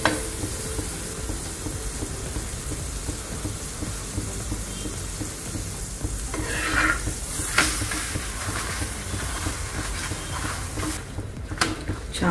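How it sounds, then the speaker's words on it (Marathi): Paratha for a paneer roll roasting in butter on a hot pan, giving a steady, close buttery sizzle and hiss that runs unbroken for the whole stretch, with small crackling flare-ups along the way. "छान असं व्यवस्थित खरपूस भाजून घ्यायचे"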